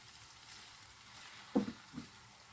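Three tomatoes go into a hot pan for a cauliflower casserole, giving a faint, steady sizzle with a couple of soft thuds as they land.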